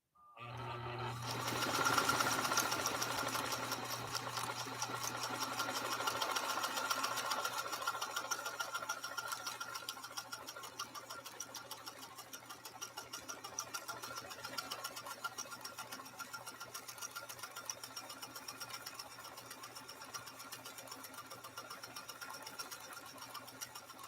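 A Pfaff 230 sewing machine stitching saddle-grade leather, a steady rapid mechanical whir and needle clatter that starts abruptly, runs loud and continuous, then eases slightly in level toward the end.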